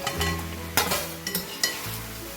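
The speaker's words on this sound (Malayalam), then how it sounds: "ഇനി നമുക്ക് ഈ തവയിൽ ഫ്രൈ ചെയ്തെടുത്ത് വെച്ചിരിക്കുന്ന ചിക്കൻ പീസസ് ഇതിലേക്ക് ഇട്ടിട്ട് മിക്സ് ചെയ്ത് കൊടുക്കാം" Fried chicken pieces being stirred into masala in a pan: a close, continuous sizzle broken by several distinct scraping and clattering strokes of the spoon, with no one talking.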